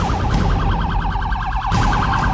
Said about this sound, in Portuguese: À noite, o silêncio é quebrado pelo barulho das sirenes.